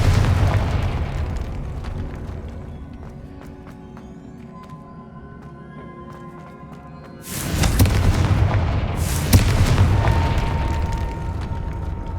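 A Confringo fire spell erupts in Hogwarts Legacy with a loud, close explosive boom halfway through, followed by a second sharp burst, the blasts rising out of a quieter rumbling game soundscape.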